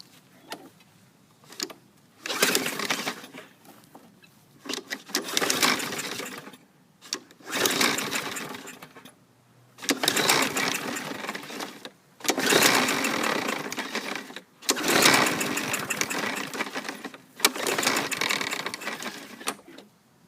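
A Briggs & Stratton 550EX auto-choke lawn mower engine is pull-started at close range: seven or eight repeated rasping bursts of the recoil cord and cranking engine, each lasting a second or two, separated by short pauses, without firing.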